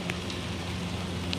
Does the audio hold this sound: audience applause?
no